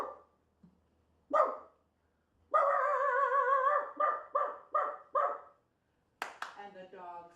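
A voice mimics dogs barking, with a long drawn-out howl followed by a rhythmic series of short yapping barks, then a final yelp.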